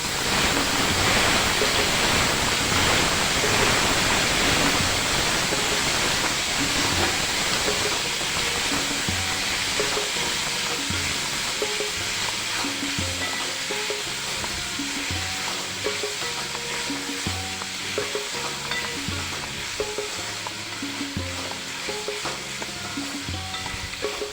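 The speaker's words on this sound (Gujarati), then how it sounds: "ટામેટા સમારેલા છે તેને પણ એડ કરી દઈએ" Chopped tomatoes hiss and sizzle in a hot pan of paneer tikka masala, a loud, steady frying crackle that fills the whole stretch with occasional stirring scrapes and no talking.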